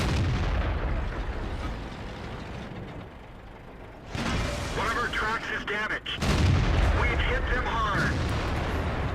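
Tank cannon fire in World of Tanks, with booming, rumbling blasts and engine noise filling the scene, heavy and continuous, with a voice talking over parts of it.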